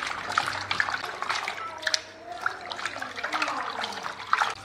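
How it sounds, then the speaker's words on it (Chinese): Fish bones and thin sea bass slices are rinsed in clean water in a bowl, giving a steady close splashing and trickling with small sloshes throughout, no talk. "最后加入清水，将鱼骨和鱼片清洗干净之后捞出"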